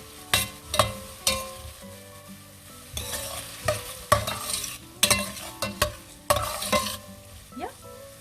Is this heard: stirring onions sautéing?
yes